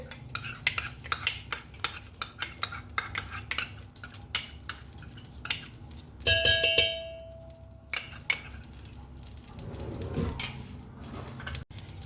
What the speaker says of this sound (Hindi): अब हम इसमें 4 चम्मच घी ऐड कर देंगे